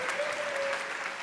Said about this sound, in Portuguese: Pode aplaudir: o pai da fé.